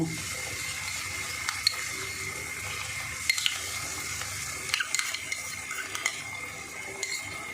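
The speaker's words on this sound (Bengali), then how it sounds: "এবার আমি যে বাদাম আর পোস্ত কাঁচা লঙ্কা বেটে রেখেছিলাম সেটা দিয়ে দেব।" A paste of ground peanut, poppy seed and green chili is added to spices frying in oil for a pointed gourd curry, giving a steady close sizzle broken by scattered scraping clicks of a spoon against the pan.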